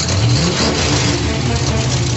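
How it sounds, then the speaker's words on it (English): A 1990 Ford Mustang Fox Body engine runs loud and steady, a rough mid-pitched rumble with slight revving swells throughout, the engine smoking just after first firing. "The blue team, K. Smith, finally gets their engine to fire."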